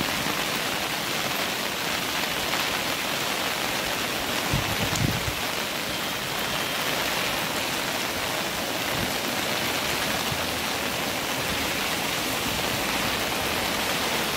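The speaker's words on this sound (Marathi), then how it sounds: "किती स्वच्छ धबधबा आहे." A small, clean waterfall pours in a steady broadband rush that fills the whole clip, continuous and fairly loud, with a brief low thump near the middle and no talking.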